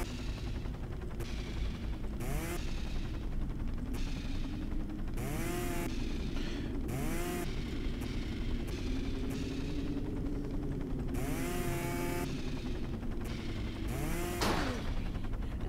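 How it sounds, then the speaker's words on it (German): A chainsaw cuts steadily in a US firefighter simulator video game, a sustained rough buzz broken by repeated rising and falling revs and sharp bursts, with no talking over it. "Benutze die Säge. Säg sie da raus."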